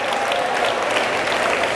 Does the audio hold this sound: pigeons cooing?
no